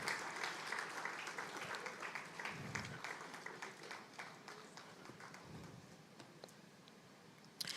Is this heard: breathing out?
no